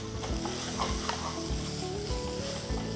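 Masala for mutton biryani fries and sizzles in a pan, with repeated scraping strokes of a spoon stirring it at a steady rhythm. It is close, with no talking.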